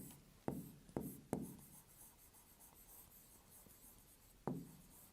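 Pen writing by hand in a maths lesson, a few sharp taps and short scratching strokes, close and quiet with long soft pauses, no talk.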